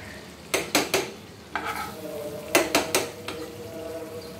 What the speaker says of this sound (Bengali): 1/2 চামচ ঘি দিলাম, একটু নেড়ে দিলাম, ঘিটা ভালোভাবে মিশিয়ে দিলাম।